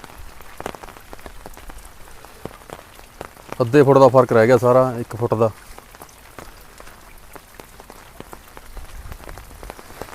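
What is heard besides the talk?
rain falling on flooded farm fields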